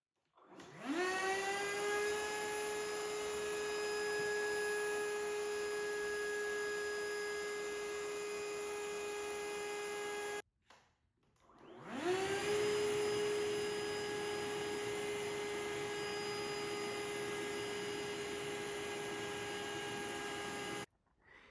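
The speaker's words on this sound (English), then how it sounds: "we'll get started here on the RYOBI 730 CFM blower." A RYOBI 730 CFM leaf blower runs at full power in two long bursts. Each burst winds up quickly into a steady, loud, high-pitched whine with a rushing airflow roar, then cuts off sharply. A brief pause separates the two runs.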